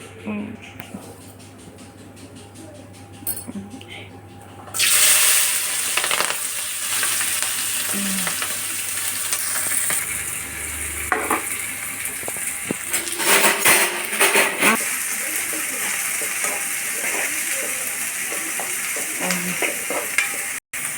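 Onions and green chillies are added to hot oil in a pan for a fish curry, bursting into a loud, close sizzle that continues steadily with utensil scrapes and clinks against the pan.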